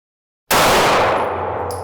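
A single loud metallic clang rings out as a 9mm handgun round strikes a steel target, a sudden close impact with a bright ringing tail fading over a second or so.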